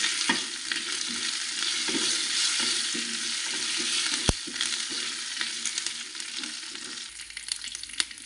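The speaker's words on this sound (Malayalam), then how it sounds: "വെളുത്തുള്ളി ഒന്ന് മൂത്ത് വരുന്ന സമയത്ത് ഇതിലേക്ക് കറിവേപ്പില കൂടി ചേർത്ത് കൊടുക്കാം" Garlic and curry leaves frying in oil for a tomato curry, a sustained close crackling sizzle punctuated by stirring scrapes and a sharp clack partway through, turning more sputtery toward the end, with no voices.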